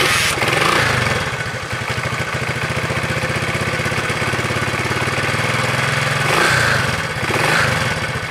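A 1960s Honda CL90 motorcycle engine running steadily, a rapid, even, buzzing putter of a small single-cylinder, loud and close, with a couple of brief revs and swells near the start and end.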